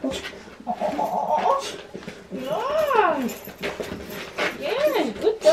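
A beagle cries in wavering, rising and falling whines, two drawn-out howling wails between shorter yelps, close up, with a person's voice talking softly around them.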